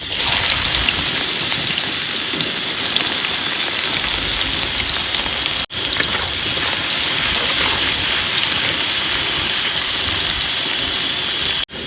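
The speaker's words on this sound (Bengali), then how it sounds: "বন্ধুরা আলু ভাজা হয়ে গেছে এবার পেঁয়াজ দিয়ে দেবো" Onions frying in oil in a pan, a loud, dense, continuous sizzle like heavy rain, close and steady with two brief cuts.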